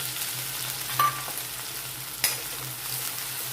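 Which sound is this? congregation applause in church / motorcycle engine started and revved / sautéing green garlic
sautéing green garlic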